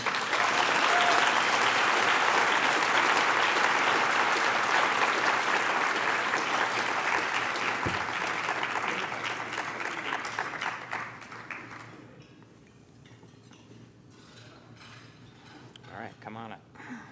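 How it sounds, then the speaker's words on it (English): Dense, loud applause fills an awards ceremony room, steady for about eleven seconds before fading quickly into quiet room sound with a few stray claps and faint voices. "Let's give a warm round of applause for Marilyn Rosen of Denton's."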